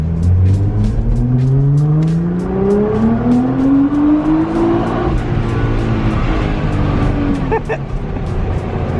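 Nissan GT-R sports car engine revs up hard through rising gears, loud and close, then settles into a rumble with clicking noises near the end.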